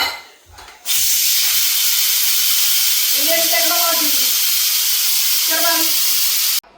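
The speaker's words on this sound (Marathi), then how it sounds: "कुकर मधली हवा रिकामी झाली" A pressure cooker holding a village-style country chicken curry vents steam in a loud, continuous hiss that starts abruptly, runs for several seconds and cuts off sharply, with a person talking over it.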